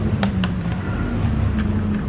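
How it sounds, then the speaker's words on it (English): A big truck passes outdoors with a steady low engine rumble and road noise across the whole stretch, heard over scattered small clicks and taps from nearby handling. "that's a great big truck going past"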